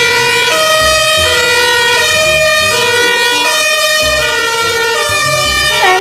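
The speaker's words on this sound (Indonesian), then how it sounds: "Ini mobil pemadam kebakaran." A loud electronic fire truck siren wails in steady repeating tones, close and continuous, with a toy-like mechanical quality.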